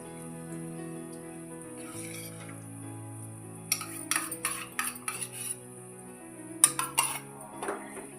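A spoon mixes spicy leftover curry with jaggery and salt in a pot, giving bursts of metallic clinks and scrapes against the pot. Quieter stretches and a steady low hum sit between the bursts.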